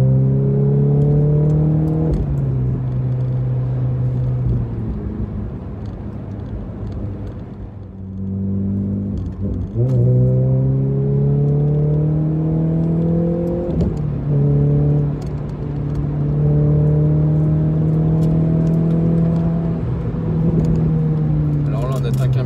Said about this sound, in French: Allez, un petit peu de gaz.